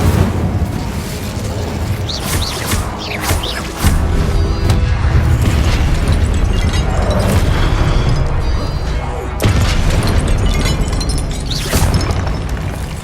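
Incendio fire spell cast during a Hogwarts Legacy duel, loud whooshing bursts and booming impacts packed into a constant, noisy combat din, with repeated blasts and no clear talk.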